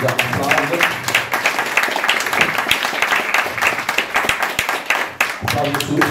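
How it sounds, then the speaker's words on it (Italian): Audience applause at a conference in Livorno, close, dense clapping from a seated crowd, sustained and fairly loud, with a few voices mixed in. "Potete fare già un applauso."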